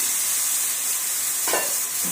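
Goat lung sizzles loudly in a hot pan with a steady hiss, and a spoon scrapes through it as it is stirred.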